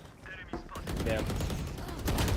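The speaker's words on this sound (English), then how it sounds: "You're shooting too soon. You're shooting while moving." Gunfire in Valorant, several sharp shots in quick bursts ringing over game noise and a faint voice, close and punchy, picking up toward the end.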